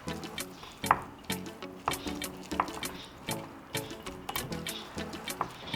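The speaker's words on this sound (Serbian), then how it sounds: "Pa ću sve sastojke promešati i sjediniti." A spoon stirs olive oil and honey together in a small jar, giving a steady rhythm of soft clinks and sticky squelches, close and quiet, with no talking.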